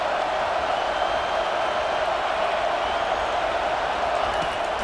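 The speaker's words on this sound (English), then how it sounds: "this crowd trying to help keep them there" A stadium crowd in the EA Sports College Football 25 video game gives a continuous broad roar, steady and loud throughout with no distinct claps or cheers standing out.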